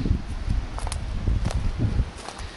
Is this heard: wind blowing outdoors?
yes